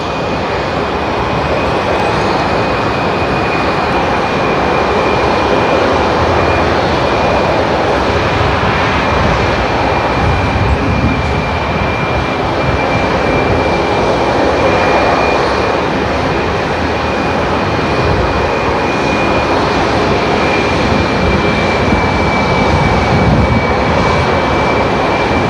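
An airliner taking off from Seattle-Tacoma International Airport, a loud, sustained jet engine roar with a steady high whine running unbroken for about twenty-five seconds.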